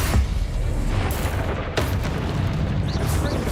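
Blasting-spell explosions during Hogwarts Legacy combat: heavy booming blasts and rumbling impacts, loud and close, with spoken incantations mixed in.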